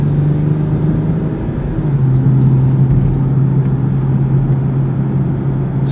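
A car driven in Sport Plus mode pulls hard with a steady, loud engine drone and low rumble that holds throughout, heard from inside the cabin with no talking.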